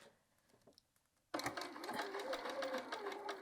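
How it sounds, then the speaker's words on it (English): A domestic sewing machine stitches a quilted jacket seam with a shortened stitch length, starting abruptly after a quiet pause and running steadily and close by with a rapid, even mechanical whir. "we're going to head over to our machine and we're going to sew this seam line"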